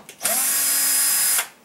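Power driver fitted with a T20 Torx bit spinning out a screw on a dishwasher, a single loud high-pitched whir lasting just over a second, close up and alone.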